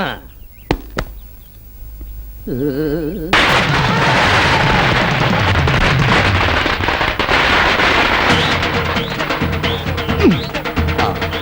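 Loud, dense crackling of firecrackers bursting in rapid overlapping pops during a funeral procession, after a few sharp bangs at the start, with voices mixed in.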